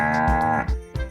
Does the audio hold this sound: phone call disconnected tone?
no